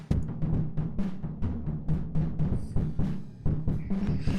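A drum kit with a distance effect pushed to maximum, kick, snare and cymbal hits arriving in a steady groove that sounds washed and far away, with reverberant tails filling the gaps between beats.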